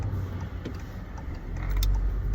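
Car driving past on a road, a close engine rumble that swells toward the end as it goes by, loud and alone without talk.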